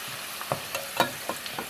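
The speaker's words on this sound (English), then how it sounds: "after they've dried, you put them back into the fryer" French fries sizzling in a deep fryer during their second fry, with a steady hiss of hot oil broken by sharp crackling pops every fraction of a second, close up and alone.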